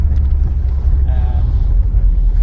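A Porsche 914/4 classic rally car on Koni yellow adjustable shocks rolls over an old cobblestone road, giving a dense, continuous low rumble of tyres and road noise heard from inside.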